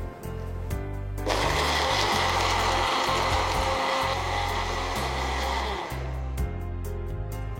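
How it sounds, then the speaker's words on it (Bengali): A kitchen blender blends a dragon fruit and beetroot smoothie with crushed ice. The motor roars loudly for about five seconds over steady background music, then cuts off. "আবারও ব্লেন্ড করে নিচ্ছে।"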